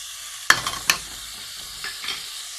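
Seviyan roasting in a pan with salt and spices, two sharp scraping stir strokes early on over a faint steady sizzle, then softer scrapes later; no talking.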